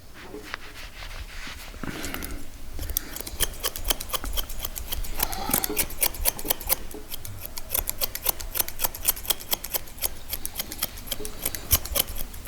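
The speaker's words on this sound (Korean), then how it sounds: "이렇게 가위로 좀 잘라 놓고 나서" Grooming scissors snip through a West Highland White Terrier's coat, a fast run of crisp metallic clicks close by, keeping a busy, steady rhythm over faint background rustling.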